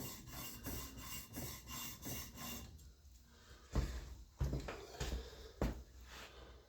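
Steel blade of an EDC knife drawn across a sharpening stone in steady rasping strokes, a fast regular rhythm that slows into a few separate, louder scrapes; close and fairly quiet with no talking.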